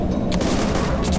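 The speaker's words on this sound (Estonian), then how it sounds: "Ta laseb mind!" Gunfire in the survival video game DayZ: a dense, loud burst of shots crackling continuously across the moment, with a couple of sharper reports standing out, and no talking over it.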